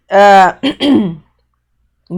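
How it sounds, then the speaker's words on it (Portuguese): A short burst of throat clearing in a recorded math lesson: two or three close, loud, raspy vocal bursts in quick succession, followed by a pause of near silence and then a voice starting again. "Desculpem, gente, tô com pigarrinho."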